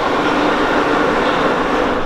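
Sofia metro train in motion, a steady loud rumble and rolling rail noise filling the whole stretch with no pauses or voices.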